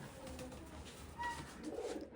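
Pigeons on a farm coo softly, with a low throaty call rising toward the end of a short, fairly quiet stretch.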